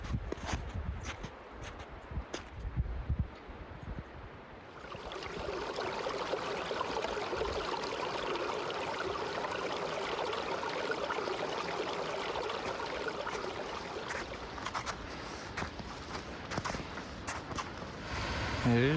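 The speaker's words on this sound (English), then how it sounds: "There's the waterfall." A mountain waterfall and creek along a backpacking trail rush in a steady, broad roar that starts about midway. Footsteps and a voice come before it, and light speech comes over the water.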